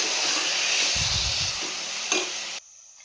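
A tomato paste mixture sizzles loudly in a hot pan while a spoon stirs it, with a brief scraping thump midway, then the frying cuts off abruptly near the end.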